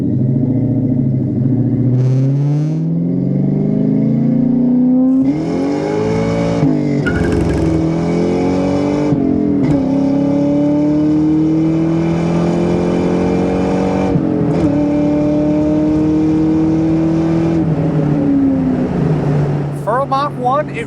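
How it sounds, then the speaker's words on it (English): 2004 Ford Mustang Mach 1 with a 4.6 V8 and five-speed manual on the road, its exhaust rising loud and near through repeated gear pulls and shifts, with someone talking over it. "With the exhaust note, just a great sounding car."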